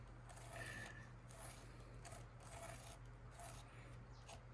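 Pottery work: a toothbrush scrapes wet clay while a plate with a foot ring is being made, giving repeated rough rasping strokes in a steady back-and-forth rhythm, close and fairly quiet over a low hum.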